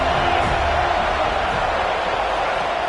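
Roaring stadium crowd cheering on the defense during a Florida State versus Notre Dame football game, a steady dense wash of noise with no break.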